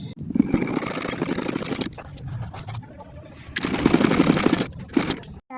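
Sewing machine stitching a kameez, running in two loud bursts of steady mechanical whirring separated by a quieter pause, then a short final burst, with no talking.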